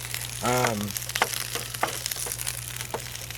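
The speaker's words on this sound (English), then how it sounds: "So we're just cutting up this cabbage, throwing it in a saute skillet." Cut cabbage sizzles steadily in a small sauté skillet, a continuous frying hiss with a few sharp clicks of stirring or utensils on the pan and a brief voice-like tone near the start.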